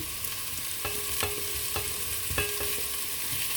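A steady hiss of mushrooms sizzling in hot oil, broken by a few light scraping stirs.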